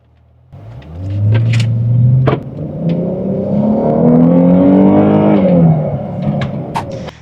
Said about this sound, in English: Let's go for a spin and have a look how it sounds when you drive the car.